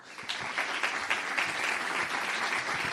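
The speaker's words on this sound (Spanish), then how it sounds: "un aplauso para Conchita" Audience applause at a generative AI summit, a dense, steady wash of many hands clapping at once that carries evenly for several seconds.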